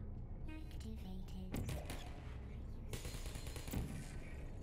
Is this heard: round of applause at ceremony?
no